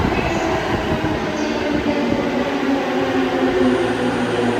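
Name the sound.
metro train arriving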